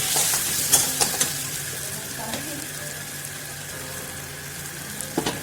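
Kashmiri chilli being stirred into frying shankar fish kalia, with a steady close sizzle of oil and scraping stirs that clack a few times near the start and end.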